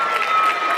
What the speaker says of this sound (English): the crowd is going crazy over that